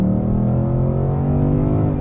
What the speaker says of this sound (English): Oh, both these cars sound so good.